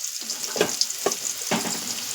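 Potatoes go into hot oil with tempering spices in a pan, bursts of close, moderately loud sizzle arriving in three quick surges over steady frying hiss.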